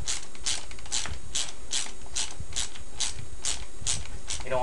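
A wheel bolt on a Traxxas Stampede RC truck is tightened, giving about ten evenly spaced, crisp ratcheting clicks close up over a low background murmur.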